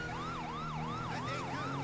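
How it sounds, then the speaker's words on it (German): A police car siren in the video game GTA 5 wails steadily, loud and close, with a smooth rising and falling cycle that repeats about every quarter second under a low engine drone. "Kurz die Sirene mal machen hier."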